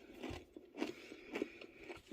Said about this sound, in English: they are the exact same texture as a rice cracker, which is fantastic. Really, really crunchy.